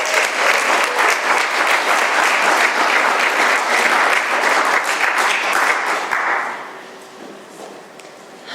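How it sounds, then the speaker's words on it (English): Sustained, full applause from a meeting audience at a recovery talk, loud and even for about six seconds before tapering off into quiet room tone. "So please give Julie a nice round of applause."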